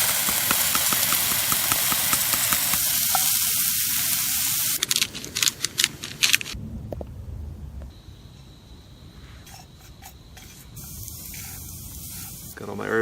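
Chanterelle mushrooms sizzling in oil in a pan, a loud steady hissing sizzle that cuts off and gives way to quieter crackling and clatter.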